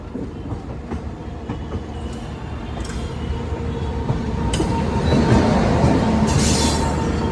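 The Barauni Lucknow Express rolls past on a monsoon-season rail line, its wheels clattering in a rhythmic clickety-clack that grows louder and nearer, with occasional squeals over a steady rumble.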